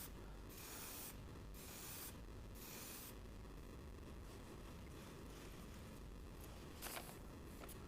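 Several short hissing spray bursts in a quick series onto the edge of a woodturned lamp, followed by steady low background noise and a soft knock near the end.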